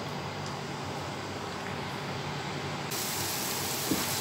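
Onion sizzling in hot beef fat for a tarka karahi, a steady close hiss of frying that swells louder partway through, with no talk.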